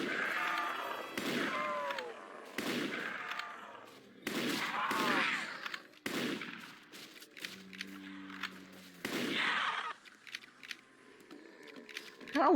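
A Remington shotgun in a zombie shooter video game, fired in a series of sharp loud blasts spaced a second or two apart, with mechanical pump clatter and a voice talking in between.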